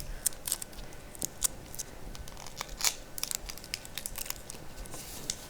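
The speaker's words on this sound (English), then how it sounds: "I'm just gonna tape around it too, just to make sure it really stays intact" Adhesive tape being pulled and wrapped around a model Mars lander on a platform, with sharp intermittent rips and crinkles in quick irregular bursts at close range, fairly faint overall.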